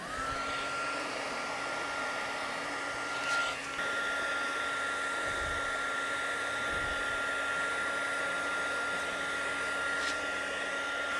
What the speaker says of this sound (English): Fire up the heat gun.